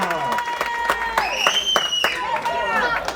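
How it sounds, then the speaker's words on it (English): Boxing fight night crowd in a hall, cheering with whistles and shouts over scattered clapping, while the ring announcer's voice carries through the noise. "please make some noise for Adam McIver!"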